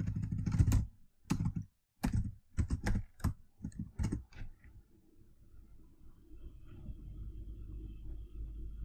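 Typing code on a computer keyboard: a few close bursts of quick clicking keystrokes with short pauses, then the tapping fades into a low steady background rumble, with no talk.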